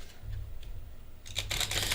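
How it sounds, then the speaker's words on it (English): Cards are shuffled for a tarot-style reading, a soft papery rustle that builds into a brisk, close riffle near the end, with no talk. "Shuffling and a shuffling and a shuffling and a shuffling and a shuffling."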